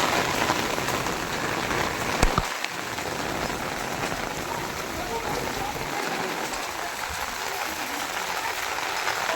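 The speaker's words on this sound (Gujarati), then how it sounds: "પવન ને વરસાદ ને" Steady rain patters on a surface with wind through a rural outdoor setting at a farm, a dense continuous wash that carries on throughout with a brief louder knock partway through.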